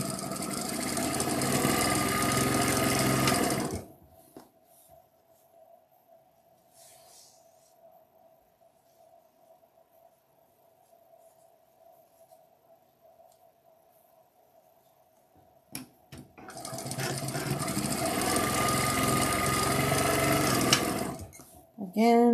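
A sewing machine lock stitches the fabric seams of large quilt block pieces in two steady, fairly loud runs, one at the start and one near the end, with a quiet pause between them.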